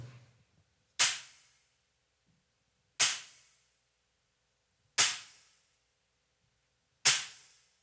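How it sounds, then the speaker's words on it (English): Stacked cymbals on a drum kit are struck four times at an even, unhurried pace, each a sharp, trashy crash with a short decay. The hits stand alone, with no talking. "even though it might be a very staccato sound, like my stack"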